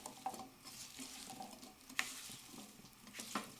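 Potatoes and olive oil stirred in a pan over medium heat for tortilla de patatas, a faint steady sizzle with soft scraping strokes and a few light clinks of the utensil against the pan.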